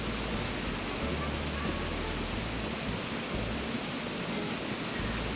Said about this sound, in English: You can hear all the water because I did waterfalls.